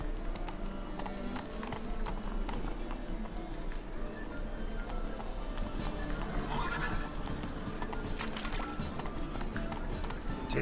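In The Witcher 3 video game, a horse gallops with rapid, rhythmic clip-clopping hooves and lets out a whinny midway, set against faint ambient game sounds and birds.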